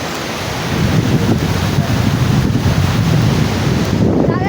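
Sea waves at Juhu Beach roll and wash continuously on the shore, a loud, broad surf roar with wind buffeting the microphone and no clear voices.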